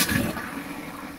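Water sprays and splashes from a leaking RV water pump line, a loud gushing hiss that starts strong and eases off slightly over a second, with no talking.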